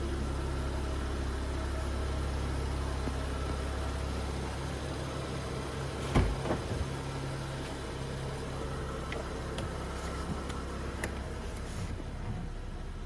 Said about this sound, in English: the exhaust valves change as well, and the exhaust gets louder in Sport or Sport Plus